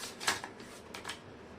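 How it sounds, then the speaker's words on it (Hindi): Tarot cards being shuffled by hand, a few quick, soft riffling bursts close by, faint and brief with no talking. "मैं कर लेती हूँ कार्ड की शफलिंग।"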